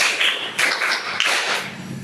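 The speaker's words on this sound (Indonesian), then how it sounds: "Tepuk 5." A classroom of pupils claps out a rhythm pattern in unison, a short series of bright, close claps with brief gaps between them.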